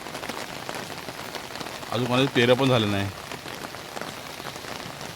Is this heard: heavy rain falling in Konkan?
yes